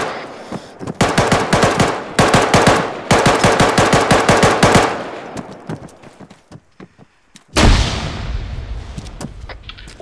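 Automatic weapons fire in the Arma 3 video game comes in loud, rapid bursts of shots, followed by scattered single shots and a sharp blast, with gaps of quiet between volleys.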